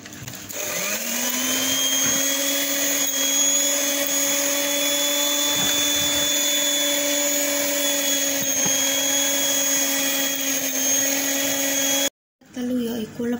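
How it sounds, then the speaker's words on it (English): An electric mixer runs continuously, stirring a dough mixture with cold water added, giving a steady close motor whine with a constant tone for about twelve seconds. It stops abruptly near the end, followed by brief faint clatter. "Sing keloro udek sampe rata nggae mixer terus tambahno banyu adem."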